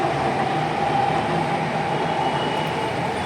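A metro train rumbles past close by in Nagpur, a steady dense roar of wheels and motors that stays loud and even throughout, with no voices over it.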